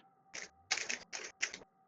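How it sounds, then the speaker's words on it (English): A Rubik's Cube being turned gives four quick, crisp plastic clicks in an uneven rhythm, close and fairly quiet in an otherwise still room. "No, it's me using my Rubik's cube."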